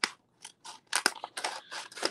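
Scissors snip through paper in quick, close, crisp cuts, around seven or eight snips in uneven rhythm with brief pauses between them, and no talking.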